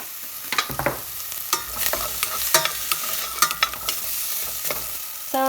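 Chopped onions cooking in a soup pot, giving a soft steady sizzle broken by scattered clicks and scrapes of a utensil stirring against the metal, close and continuous with no talking.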